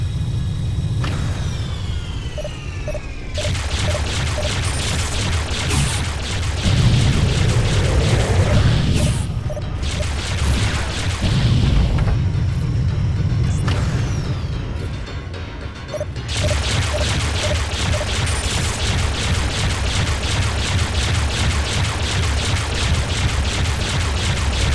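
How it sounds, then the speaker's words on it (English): Beam cannons fire in Freespace 2, a dense, sustained roar of crashing, booming blasts and sweeping energy tones, with brief dips between heavy volleys. "They brought the beam cannons online."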